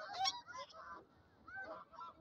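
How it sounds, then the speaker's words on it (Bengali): Geese honk in a park in Riyadh, Saudi Arabia, a few quiet, nasal calls at a moderate distance, the first burst louder and a softer pair following after a short pause. "অনেক হাঁস,"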